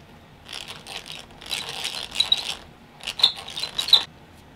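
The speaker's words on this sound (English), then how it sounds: "Just drill this hole out a little bit wider." A drill widens a hole in a wooden tent pole, giving bursts of gritty, rasping whir that start and stop in several separate runs, close up and with no talking.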